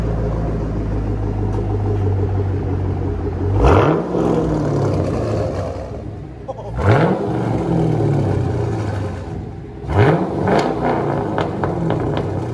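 A 2015 Chevy Camaro SS with a 6.2L V8 and straight-piped dual exhaust revs three times, each a loud, sharp rise and fall over a deep, rumbling idle heard up close.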